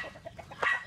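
Rooster chickens clucking nearby, a quick series of soft clucks followed by a louder, sharper squawk at the end, faint overall.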